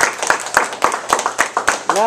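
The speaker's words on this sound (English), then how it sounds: "Let's give them all another round of applause" Audience applause for debaters at a university policy debate, a string of distinct, fairly loud claps in an even rhythm mixed with speech, and a voice speaking at the close.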